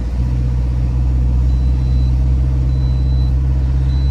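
A Toyota RAV4 engine held at full throttle but capped near 2,000 RPM, suspected of an oil pump fault, producing a steady, loud low rumble and drone that stays constant without rising, with no voices.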